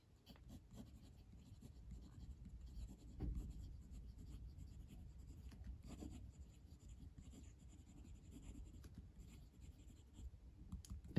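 An Ellington fountain pen with an extra fine nib scratches softly across paper in a writing sample, a faint, close, continuous scritching with small pauses between strokes and no talking.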